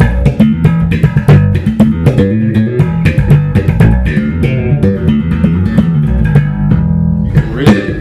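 Slap bass played on a Carvin PB bass guitar in passive mode: loud, punchy plucked and slapped notes in a busy funky rhythm, close and dry with no talking.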